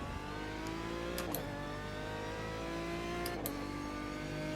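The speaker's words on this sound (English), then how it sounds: "I'll try and not be so loud on the engine." A racing car engine in a GT Challenge video game at Le Mans drones steadily with rising and falling pitch, like a revving racing car, at a low level with no voices.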